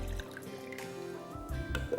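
Water poured into a large mixing bowl while mixing a cake-style batter, a soft running splash and trickle that stays steady at a moderate level for about two seconds.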